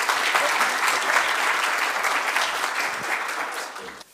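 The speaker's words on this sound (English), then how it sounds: "Give him another round of applause" Audience applause after a lightning talk at PyCon Ireland, a dense wash of clapping from a conference crowd, steady and fairly loud before fading out at the end.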